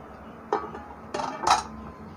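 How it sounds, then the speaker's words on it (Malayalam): A cake mold for a malai cake lowered into a preheated pan, with a few close metallic clunks and scrapes as it settles, over a low background hum. "പ്രീ ഹീറ്റ് ചെയ്യാൻ വെച്ച പാന് തുറന്നിട്ട് മോൾഡ്, കേക്ക് മോൾഡ് അതിലേക്ക് ഇറക്കി വെച്ച് കൊടുക്കുക"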